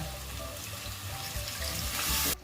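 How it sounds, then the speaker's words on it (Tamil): Water poured into a pan of simmering homemade chicken gravy, a steady close hiss and bubbling sizzle that swells briefly near the end before cutting off. "இப்போ கொஞ்சோண்டு தண்ணி சேர்த்துக்கலாம்."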